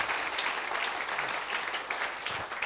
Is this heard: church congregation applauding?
yes